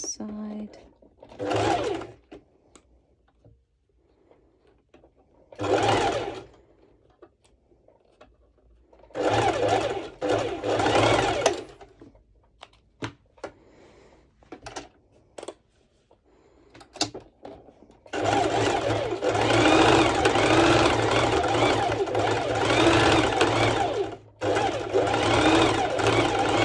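Sewing machine running a straight stitch over and over on a cut-out swimsuit, loud motor bursts starting and stopping several times, ending in one long continuous run; little else heard between bursts.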